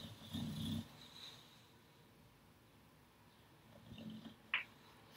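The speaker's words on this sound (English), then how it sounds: "He's snoring." A small dog snoring nearby, one soft rumbling snore at the start and another fainter one near the end, with a short click in a quiet room.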